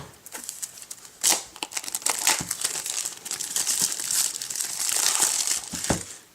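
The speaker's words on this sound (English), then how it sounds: "I'm just going to cut the plastic off." Plastic wrap being cut and peeled off an Apple TV 2nd generation box, a run of close, crisp crinkling and tearing bursts with sharp snips, steady and fairly loud throughout.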